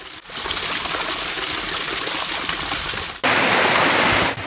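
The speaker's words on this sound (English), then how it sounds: "I returned to the Dallington stream as it runs through Dallington Forest and across the slopes of Brightling Down." Forest stream in Dallington Forest running across the slopes of Brightling Down, a loud, continuous rushing and splashing of water close by, with a brief cut and a brighter, louder burst of flow.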